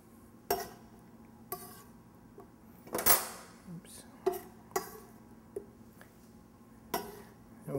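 Mango slices being cut on a board and dropped into a bowl for a napa cabbage and mango slaw, giving sparse, close clicks and taps with one louder clatter near the middle.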